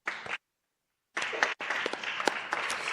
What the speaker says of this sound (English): I think we owe him another round of applause.